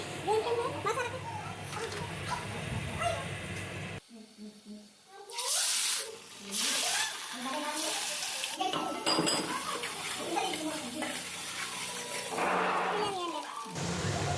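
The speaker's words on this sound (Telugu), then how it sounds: "దీంతోపాటు ఆనియన్ పేస్ట్ కూడా వేసుకుంటున్నాను ఇదంతా మంచిగా కలుపుకొని ఫ్రై చేసుకోవాలి" Onion paste and ground spices fry in a pan while being stirred, with soft sizzling and scraping of a utensil against the pan, interrupted by a brief lull and a few clinks of metal.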